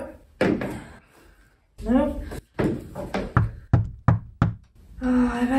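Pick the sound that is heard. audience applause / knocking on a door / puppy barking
knocking on a door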